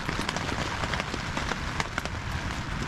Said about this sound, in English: That's just the water falling from the trees